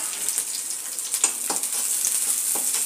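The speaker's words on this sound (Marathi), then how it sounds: "आता आपण यामध्ये हिरव्या मिरच्या तळून घेणार आहोत." Green chillies fry in oil for Nashik-style chivda, a steady bright sizzle close by with brief crackles and pops throughout.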